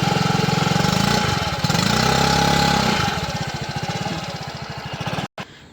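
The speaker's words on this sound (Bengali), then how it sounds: "তো গাড়ির এক্সজস্টের সাউন্ডটা জাস্ট দেখো।" A motorcycle engine runs close up with a loud, rapid, pulsing exhaust note. It briefly revs and falls back, then settles into a choppier idle before a short cutout near the end.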